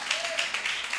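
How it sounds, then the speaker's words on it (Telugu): A church congregation claps along during a Sunday service, a quick run of rhythmic hand claps lasting about a second under a faint sustained tone. "చప్పట్లు కొట్టు"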